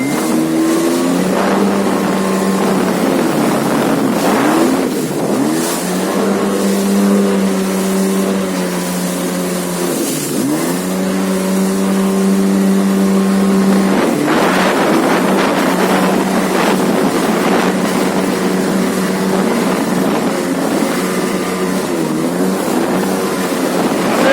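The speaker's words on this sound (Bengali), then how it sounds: "আমরা এখন কক্সবাজার সমুদ্র সৈকতে জেট-স্কি নিয়ে গভীর সমুদ্রের উদ্দেশ্যে রওনা দিয়েছি" A jet ski heading out to open sea off Cox's Bazar beach, its engine droning loudly and continuously with rising and falling revs, heavy wind buffeting the microphone throughout.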